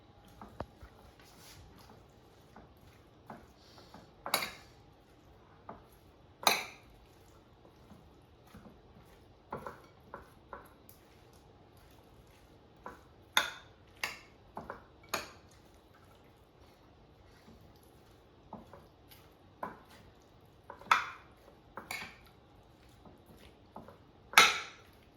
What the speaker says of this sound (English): And now mix everything together.